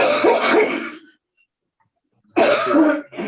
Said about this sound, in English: That cough is overpowering everything.